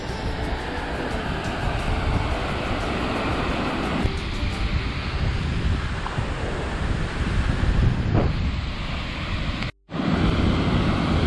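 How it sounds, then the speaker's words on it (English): Water of the French River pouring over Horseshoe Falls into the Pickerel River, a steady, loud, broad rushing roar that fills the whole clip with no voices and cuts out for an instant near the end. "So this is Horseshoe Falls, French River dumping into Pickerel River."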